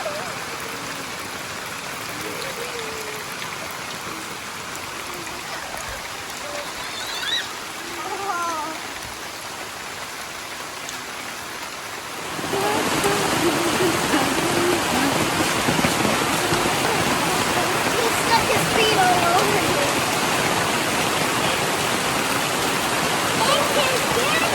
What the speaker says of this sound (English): It just keeps raining harder and harder.